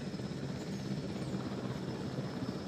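Steady, loud rotor drone of a helicopter lifting and carrying a T-Rex in Jurassic World Evolution, a continuous broadband whir with no talk.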